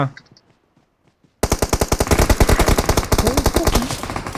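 Sustained automatic gunfire in the video game PUBG Mobile, loud and close, a dense rapid burst of shots after a quiet opening with faint sounds, continuing steadily to the end.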